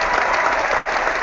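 A brief, dense burst of applause from many hands, loud and steady, with a tiny break near the end.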